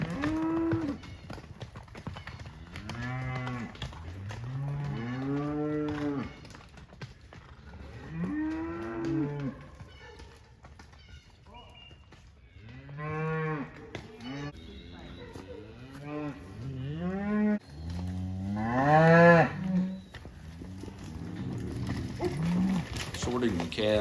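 Cows and calves moo repeatedly on a forested Ozark cattle operation during sorting, with long drawn-out calls from several animals at varying distances, some close and loud, overlapping at times with faint rustling and a few people talking.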